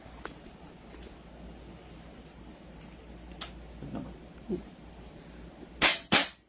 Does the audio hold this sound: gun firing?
yes